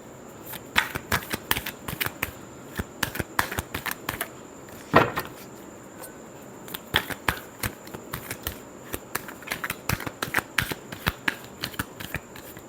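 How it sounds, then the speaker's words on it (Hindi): Tarot cards are shuffled by hand close up, a long run of quick crisp riffling flutters and slaps in uneven bursts, with a brief pause midway and no talking over it. "Last shuffle."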